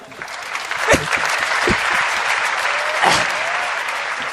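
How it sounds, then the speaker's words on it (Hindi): Audience applause at a Hindi comedy poetry show: a steady wash of clapping that holds through the whole stretch, with a few sharper claps standing out and faint voices mixed in. "समझ गए हो? तालियां बजा दो"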